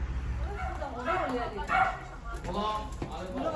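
A 10 kg dog barks and yips a few times at close range, mixed with people talking over steady background noise.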